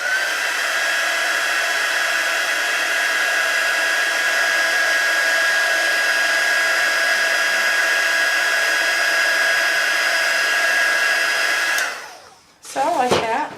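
A hair dryer runs loud and steady for about twelve seconds to dry paint on an art journal page, then cuts off and briefly whooshes again close up.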